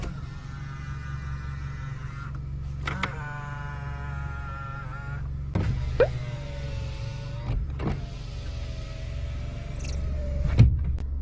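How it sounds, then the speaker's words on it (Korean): Power-folding side mirrors on a Kia Forte Koup whirring in several short motor runs, each a few seconds long and separated by clicks, close by over a low steady hum. "접이식 사이드 미러"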